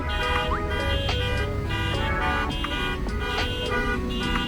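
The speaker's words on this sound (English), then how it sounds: "everyone is setting off their alarms to try to find the cars." Several car alarms and horns blare at once in a parking lot, overlapping toots and whooping electronic tones sounding loudly and continuously, with rising chirps scattered throughout.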